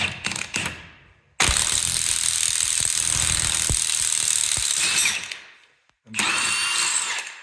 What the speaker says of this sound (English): I love this clamshell puller. So the bearing's off.